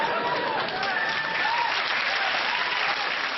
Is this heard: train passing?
no